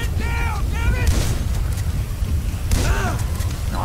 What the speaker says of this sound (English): Wow, this shotgun's doing the business.